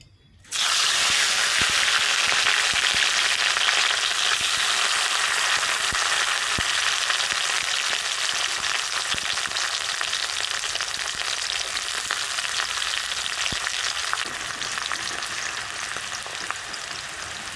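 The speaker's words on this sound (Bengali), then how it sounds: "তেল গরম হয়ে গেছে, ক্যাপসিকামটা ভেজে নেব।" Capsicum sizzles loudly in hot mustard oil in a kadai, a dense steady frying hiss starting abruptly and continuing close up without a break, no voices.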